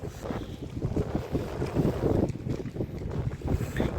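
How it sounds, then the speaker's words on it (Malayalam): Strong, gusty wind blows at the Thottappally fishing harbour in Kerala during rainy weather, buffeting the microphone with a continuous rough roar and no voices. "ഈ കാറ്റും മഴയൊക്കെ ഉണ്ട്"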